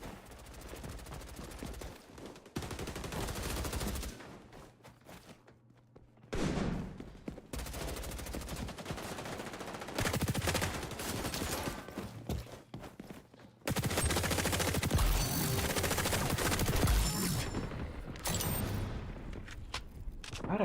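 M-16 rifle fire in the shooter XDefiant: close, loud bursts of rapid shots that start and stop across the stretch, separated by quieter gaps with faint movement.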